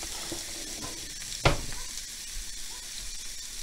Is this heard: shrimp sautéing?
yes